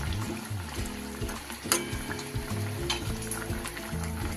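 Fried bata fish in a mustard-oil curry in a pan, giving a loud continuous sizzle and bubbling close up, with occasional stirring and no talking.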